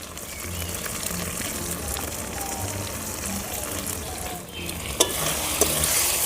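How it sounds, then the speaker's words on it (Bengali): Spices with tomato, salt and turmeric frying and being stirred in a pan over a village clay stove, a steady close sizzle with scraping stir strokes and a couple of sharp clinks near the end. "এবারে ভালো করে মশলাটা কষিয়ে নেবো"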